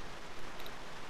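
Steady rain patters on a car in the video game GTA San Andreas Multiplayer, a soft, even hiss of drops with faint higher ticks, continuous and without voices.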